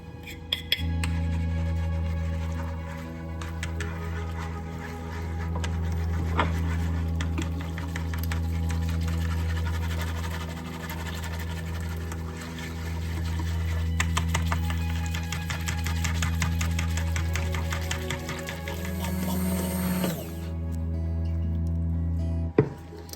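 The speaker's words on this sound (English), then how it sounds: "I get my hand blender and just get that in there" Hand blender whirring steadily in a pot of Guinness beef stew, a loud continuous motor hum that pulses slightly as it moves through the liquid, cutting off briefly near the end before restarting.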